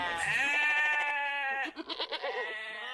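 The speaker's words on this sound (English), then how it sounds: "I will fetch up your goats, Audrey." A single drawn-out goat bleat, close and loud with a wavering tone that breaks into stuttering pulses near the end, in a staged performance of Shakespeare's As You Like It.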